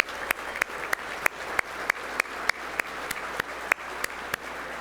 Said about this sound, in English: So big round of applause for Mike and Deb.